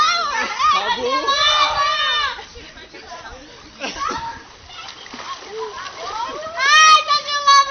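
Children jump and splash in a cold outdoor swimming pool, loud bursts of splashing water mixed with excited shrieks and chatter, with a fresh splash near the end.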